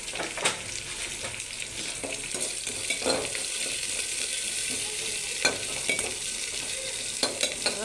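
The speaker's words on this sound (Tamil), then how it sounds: "அதெல்லாம் போட்டு நல்லா வெங்காயம் நல்லா வதங்கி வரணும்" Onions, with coriander and cumin, sizzle and fry in a pan for green gram curry, a steady close hiss broken by scraping stirs and occasional clinks of a spoon.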